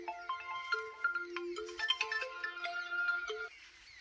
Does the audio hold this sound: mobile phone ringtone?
yes